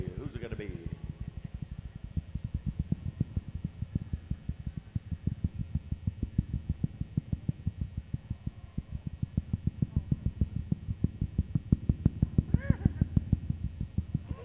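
Drums beat a fast, steady roll at a pow wow dance competition, a continuous run of evenly spaced thumps that grows slightly louder toward the end, with voices over it.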